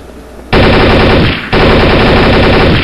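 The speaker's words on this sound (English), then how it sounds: "we're shooting a few bullets just to check" Loud, continuous automatic gunfire in Counter-Strike: Source, two sustained bursts, rapid shots blurring into a dense rattle with a brief dip between them.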